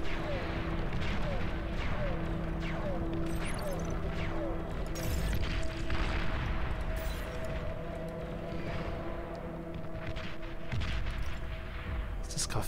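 Artillery units firing in the real-time strategy game Beyond All Reason, a dense continuous rumble of booms and impacts from a large battle, with someone talking over the steady noise.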